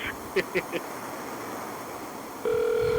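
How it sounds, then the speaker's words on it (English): A steady telephone tone comes in near the end and holds loud and constant, after a few brief faint beeps earlier over low background hiss. "So that's your phone then."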